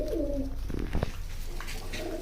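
Rajshahi Giribaz pigeons coo in a loft, soft rolling calls near the start and again toward the end, with a brief flutter or knock in the middle and no talking.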